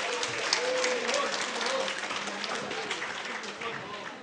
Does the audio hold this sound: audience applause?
yes